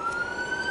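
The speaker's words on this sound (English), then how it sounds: "oh, sorry if y'all can hear that siren." An emergency vehicle siren holds a steady wail, continuous and moderately distant, with no talking over it.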